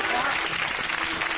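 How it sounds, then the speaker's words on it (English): Studio audience of a British comedy chat show applauding, a loud, dense wash of clapping filling the whole moment without a break. "applaud now."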